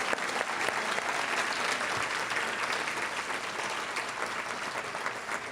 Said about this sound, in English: Let's give a round of applause for all these outstanding teachers.